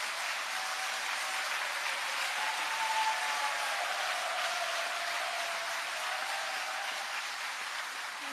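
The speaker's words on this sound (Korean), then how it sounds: "우리 또 그분을 위해서 박수 한번 보내시기 바랍니다." Audience applause for Father Moon Jeong-hyeon at a Catholic political prayer rally, a steady dense wash of clapping sustained at an even level for about eight seconds with a faint tonal hum underneath and no talking.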